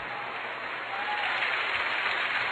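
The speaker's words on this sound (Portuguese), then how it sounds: "Pode aplaudir, é muito bom." Audience applauding in a church talk setting, a steady dense wash of clapping that swells slightly louder midway and continues throughout without pause.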